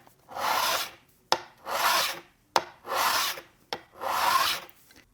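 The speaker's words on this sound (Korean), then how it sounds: "줄 작업을 할 때 이런 식으로 하지 마시고 꼭 누르고 당겨 주셔야 됩니다" A metal file is pressed and pulled along the edge of a steel scraper in four steady, evenly spaced rasping strokes, each starting with a small click, close and fairly quiet with no talking.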